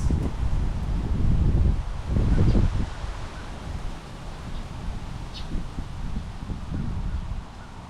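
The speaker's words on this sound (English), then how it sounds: "The wind, you guys" Outdoor wind gusts buffet the microphone as a low, rumbling roar that swells strongly in the first few seconds and then eases into a steadier, softer blowing.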